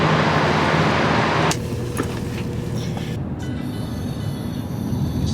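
Train at a railway platform on the Marylebone to Worcester line, a steady loud rumble with a brief burst of hiss at the start, carrying on through the whole stretch with no talk.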